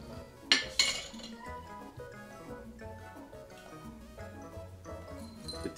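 A muddled old fashioned is stirred in a glass, giving a couple of sharp clinks of spoon on glass early, then soft, faint tinkling and scraping of ice with no talking.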